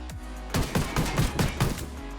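SASG-12 Saiga semi-automatic shotgun firing in the Ghost Recon Wildlands video game, six quick evenly spaced blasts in a fast burst over a low steady hum, with no talking.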